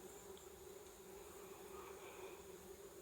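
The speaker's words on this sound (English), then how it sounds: "They're just bees. Well, bee sounds." Swarm of bees gathered up in a pine tree outdoors, a steady, continuous buzzing drone with a sustained tonal hum, fairly faint and unchanging throughout, no voices.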